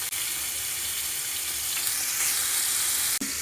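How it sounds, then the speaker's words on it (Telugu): Cut cauliflower pieces fry in hot oil for aloo gobi, making a loud, steady, close sizzle with a soft bubbling wash and one brief clink near the end. "క్యాలీఫ్లవర్ అయితే వేసిస్తున్నాం"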